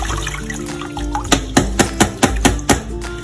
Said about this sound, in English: we're going to rinse it off again until the water runs clear